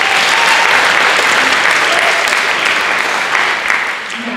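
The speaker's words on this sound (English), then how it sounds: "So big round of applause for this all." An audience at a school international night breaks into loud, dense applause, a continuous wash of clapping that holds steady before tapering slightly near the end.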